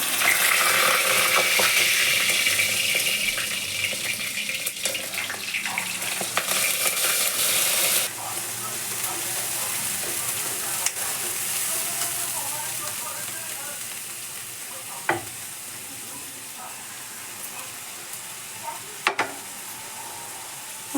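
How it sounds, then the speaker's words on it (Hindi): Hot oil stirred in a pan, a loud dense sizzle that drops to a quieter steady crackle partway through, with a few sharp clinks of a spoon on the metal. "बस तेल हिला हिला के इसका झाग निकालना है जी"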